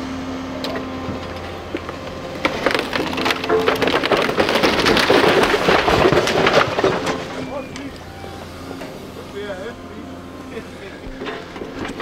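Crashing and cracking of a house being torn down, with wood splintering, swelling into a dense loud burst of debris noise in the middle before easing back to a steady rumble, with voices talking over it.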